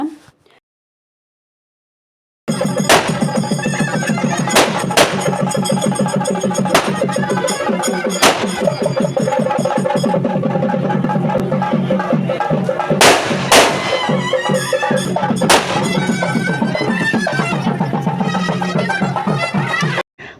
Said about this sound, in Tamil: பழி கொடுத்த உடனே இப்போ வான வேடிக்கை நடக்குதுங்க